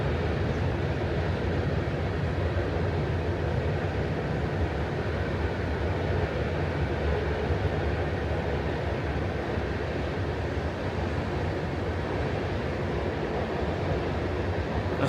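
A train passing near the Great Falls Mill ruins keeps up a continuous low rumble and rolling noise, steady and unbroken for the whole stretch, with no voices.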